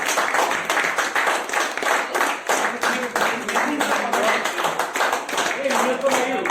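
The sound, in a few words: audience clapping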